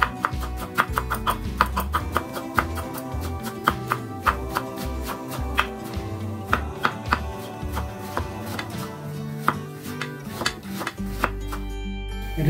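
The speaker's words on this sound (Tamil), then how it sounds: "இப்போ நம்ம கோஸ் நறுக்கிட்டு கேரட் நறுக்கிக்கலாம்." Rapid knife chopping of cabbage on a board, dense rhythmic thuds close up, speeding and slowing in bursts with no talking.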